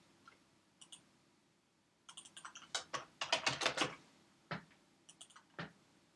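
Sparse clicks, then a quick burst of keyboard typing, keys tapped rapidly and close by, followed by a few scattered keystrokes.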